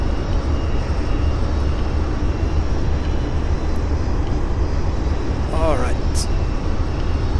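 A Mirage F-1 jet engine roars steadily in a flight simulator game, a loud continuous broadband whine and rumble that stays constant throughout, with a brief voice heard over it.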